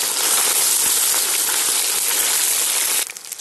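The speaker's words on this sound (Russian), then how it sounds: "обжарили свинину." Loud, steady sizzling hiss of pork frying in a cauldron over a campfire, close up, dropping off sharply near the end.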